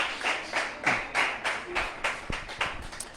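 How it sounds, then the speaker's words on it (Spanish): A congregation claps in rhythm in church for the King of Glory, a fairly quiet, regular series of group claps at about two per second, with a faint voice briefly underneath. "dele ese aplauso al Rey de la Gloria"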